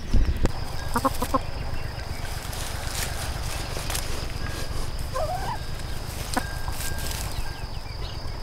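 Short bursts of chicken clucking come and go over a steady outdoor background hum on a homestead in Portugal, with no talking.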